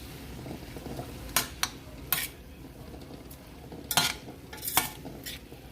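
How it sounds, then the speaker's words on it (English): Spinach being stirred into ramen in a cooking pot, with a few sharp clinks and scrapes of a utensil against the metal over a low simmering background, no talking. "I'm going to mix it up."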